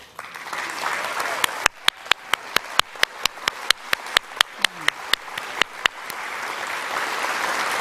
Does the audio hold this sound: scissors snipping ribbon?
no